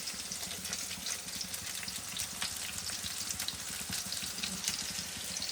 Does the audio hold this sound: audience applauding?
no